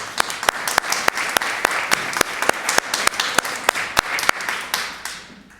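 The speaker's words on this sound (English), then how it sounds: "Another round of applause for her," An audience at a Polish heritage talk gives a speaker a steady round of applause, with many hands clapping together and a few sharp, close claps standing out before it tapers off.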